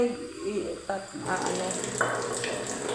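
Running water splashes steadily into a pan for pork steak, a continuous bright wash of pouring with some clatter at the start, fairly close and loud.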